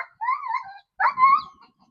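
Two short, high-pitched dog whines or yelps, close by, separated by a brief pause, after a chicken attack.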